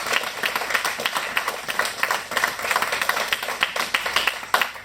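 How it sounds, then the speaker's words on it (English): An awards-night audience at a club gives a round of applause for the runner-up, a steady patter of many hands clapping at moderate volume with little talk. "just a nice round of applause and a bit of acknowledgement"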